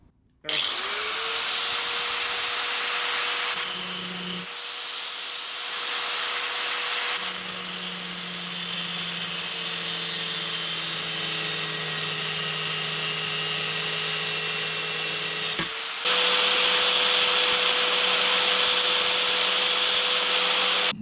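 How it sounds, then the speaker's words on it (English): An angle grinder grinding the cut edges of a threaded rod, a loud high-pitched whine with a grinding rasp that dips when the disc meets the metal, running steadily for about twenty seconds with brief pauses. "What I just did then when I was grinding the edges"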